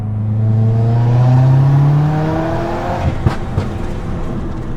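A pro-tuned Subaru WRX on a canyon road with loose gravel: a loud engine drone rises, then falls off the throttle, followed by several sharp exhaust pops crackling near the end, heard close with no talk.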